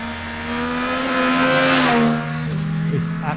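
A motorcycle rides along country B roads with a steady, fairly loud engine drone that swells and holds, then eases slightly as the pitch shifts near the end.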